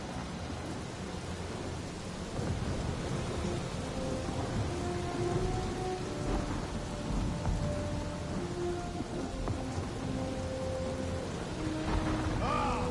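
Steady rain and rolling thunder from a storm in the Guardians of the Galaxy video game, a dense continuous wash with low rumbles swelling underneath, with faint tonal game ambience layered in.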